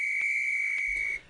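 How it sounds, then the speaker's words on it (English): A shrill, steady whistle blast, one long piercing tone held for about a second before cutting off, alone and close. "Blow the whistle."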